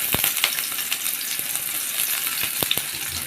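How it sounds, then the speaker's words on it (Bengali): Chopped onion frying in hot oil for a spinach-style vegetable dish: a steady, dense sizzle with scattered sharp crackles and pops close by, with no voices. "আমি এখন তেল দিয়ে নিলাম পেঁয়াজ কুচি দিয়ে দিলাম"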